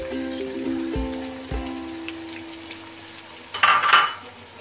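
Spices fry in a pan for a Ramadan iftar dish while a metal spoon stirs them. The spoon gives sharp ringing clinks and scrapes against the pan, over a faint sizzle.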